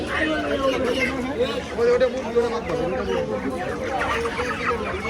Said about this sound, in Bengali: এই যে মুরগি কই দাঁড়ায় রয়েছে